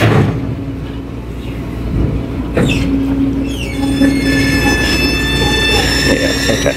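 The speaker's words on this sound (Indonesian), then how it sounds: "Suaranya udah mulai ngangkat pintunya." A ferry's door ramp being raised at Gilimanuk harbour, heard as a steady mechanical hum and rumble with rising whining tones from the lifting gear, fairly loud and continuous throughout.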